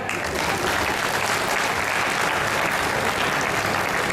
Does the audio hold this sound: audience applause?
yes